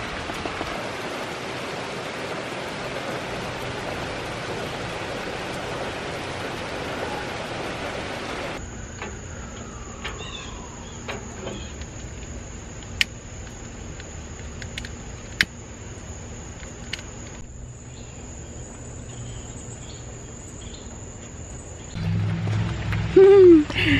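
Rain falls during a summer evening cookout, a steady broadband hiss for the first several seconds that then drops away to a quieter outdoor background with occasional clicks.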